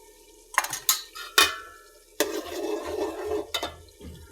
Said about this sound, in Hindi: अब हम इसे फ्राई कर लेते हैं अच्छे से दही को